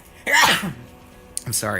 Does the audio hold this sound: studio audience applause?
no